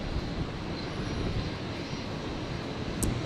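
An airplane arriving at Brisbane airport gives a steady, fairly faint broadband rumble that holds evenly throughout, with no talk.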